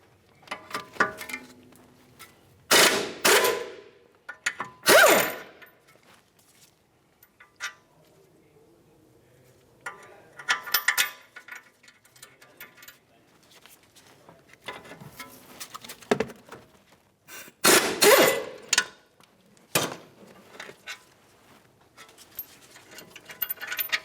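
Wrench work removing two 18mm caliper bracket bolts from the front brake knuckle of a 2009-2019 Ford Flex, with scattered close metallic clicks and ratcheting bursts separated by quiet pauses.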